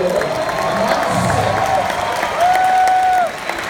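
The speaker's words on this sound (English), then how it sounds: "We got applause" An audience at a Steve Wozniak conference talk breaks into applause, a close burst of clapping with some tonal background sounds, fading near the end.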